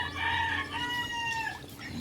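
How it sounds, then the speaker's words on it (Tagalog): Pet ducks at a rural Philippine yard after a typhoon give a few loud, harsh calls close by, with rising and falling squawks separated by a brief pause. "Yung mga alaga ko, mga bibi, oh."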